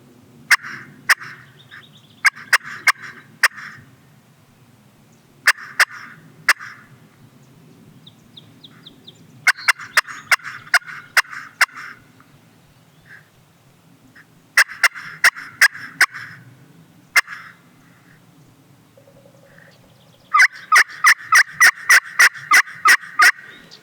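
A wild turkey gobbler answers a hunter's calls in the woods, loud rattling gobbles in repeated bursts separated by pauses, interleaved with sharp clucking yelps from a call.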